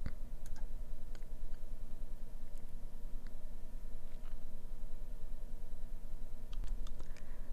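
Mouse clicks on an installer link while setting up Dundas Dashboard 4.0 on a computer: a few faint, sparse, sharp clicks over a steady background hum.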